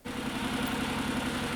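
A Honda NC750X motorcycle engine with about 80,000 km on it idles steadily up close after a valve clearance check, giving a smooth, even low throb that continues unbroken.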